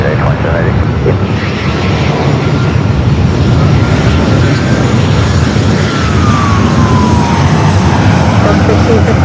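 A fixed-wing airliner roars on takeoff from runway 24 left at Los Angeles airport, a loud continuous rumble filling the whole stretch without a break.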